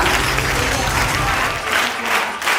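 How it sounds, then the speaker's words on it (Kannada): Loud, dense applause from an audience at a Dhruvatare Foundation uniform distribution event, steady clapping filling the whole stretch without pause. "ಅವರೆಲ್ಲರಿಗೂ ಜೋರಾದ ಚಪ್ಪಾಳೆಯ ಮೂಲಕ"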